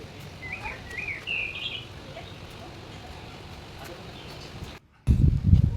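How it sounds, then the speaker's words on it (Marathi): Birds chirp and trill in trees at a hotel in Mahabaleshwar, several short calls at moderate distance over a hushed outdoor background before a sudden burst of louder rustling noise. "इथे ना पक्ष्यांचा एक सुंदर आवाज आहे."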